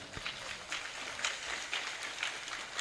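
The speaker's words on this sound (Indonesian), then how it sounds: "Tepuk tangan untuk orang Madura." An audience at a comedic religious sermon gives a faint, brief round of scattered clapping, heard at a distance and low in level.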